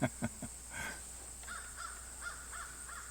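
A few soft knocks open the scene, then crows at a rural New Hampshire flea market caw faintly and repeatedly from a distance, five or so calls in an uneven rhythm over a constant hum.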